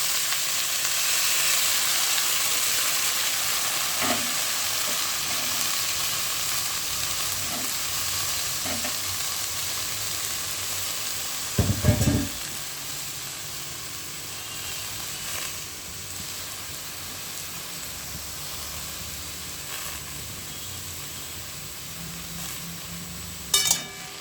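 Chopped bottle gourd fries in a pan with a soft, continuous sizzle and hiss, broken by occasional scraping stirs and a couple of sharper knocks, close but fairly quiet, no voices.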